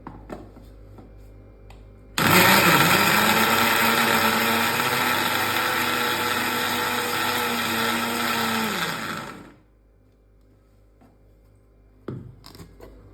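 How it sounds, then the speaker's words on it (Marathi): An electric mixer grinder grinding green tomato chutney starts abruptly and whirs loudly for about seven seconds, slowing slightly before cutting off, then a short burst follows. "आपण मिक्सरला हे थोडंसं फिरवून घेऊयात"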